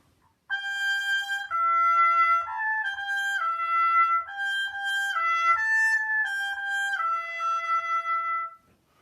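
A brass ensemble plays a high, gentle lullaby-like motif for Baby Bear in a children's story piece: a string of clear sustained melodic notes in short phrases, alone over quiet.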